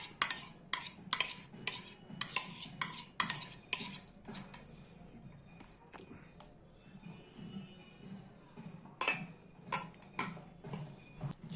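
Metal spoon clinking and scraping against a pot while stirring a mixture of date palm jaggery and milk, irregular bursts of close, bright taps with soft stirring between, no speech.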